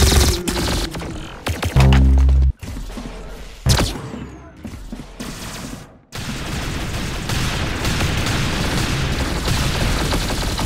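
Gunfire in the video game Arsenal, a rapid burst of loud shots followed by scattered single blasts and a sustained roar of battle noise, with no talk over it.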